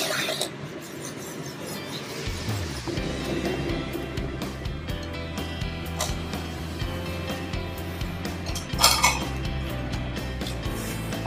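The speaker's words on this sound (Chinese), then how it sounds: "倒入营养泉水" Liquid poured into glass sample bottles during a lab test, with steady clinking of glass against glass and metal throughout, close and fairly loud, no talking.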